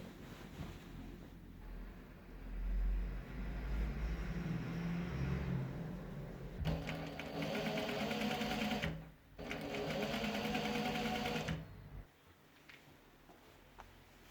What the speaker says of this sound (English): I will then turn it inside out and top stitch around the edges to make them crisp.